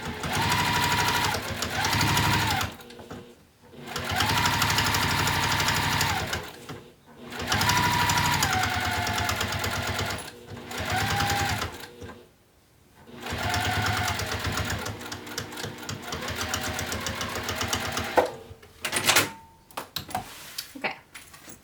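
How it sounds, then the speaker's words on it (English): A sewing machine topstitches a bag's seam allowance and top panel in long, loud, steady runs of rapid stitching. Short pauses and clicks fall between bursts. "So you're top stitching your seam allowance and your top panel 1/8 inch"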